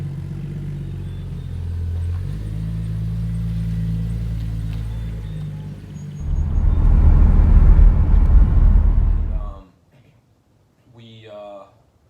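Lifted truck with a 3-inch RC lift driving down the road, a steady low engine drone that swells into loud road and tire roar, then cuts off abruptly, with a short voice at the end.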